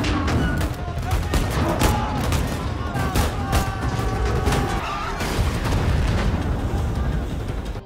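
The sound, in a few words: gunfire in a film shootout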